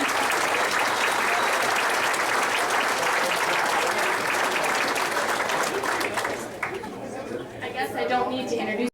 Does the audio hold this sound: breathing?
no